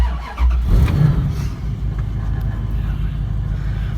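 A Jeep Cherokee, a project vehicle under repair, starts up and moves off, its engine revving up loudly and then settling into a steady drive hum close by.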